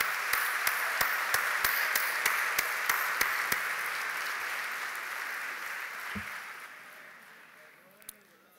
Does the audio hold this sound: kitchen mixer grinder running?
no